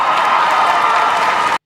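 Audience applause at Disney's Star Wars Celebration, a steady wash of many hands clapping from a large crowd for under two seconds before cutting off abruptly.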